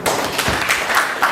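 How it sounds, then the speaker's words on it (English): An audience at a talk on women in South Sudan claps together in a brief, dense burst of close, overlapping hand claps with no voices over it. "Can we clap for ourselves?"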